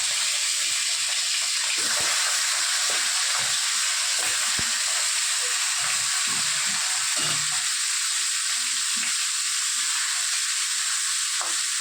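Rohu fish heads, rubbed with salt and turmeric, fry in oil with a loud, continuous crackling sizzle that holds steady throughout, with occasional light knocks; no voices.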